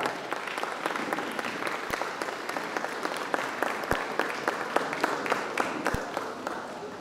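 Audience applause welcoming a guest at a school annual day celebration, a steady patter of many hands clapping with a few sharper nearby claps standing out, moderately loud in a large hall.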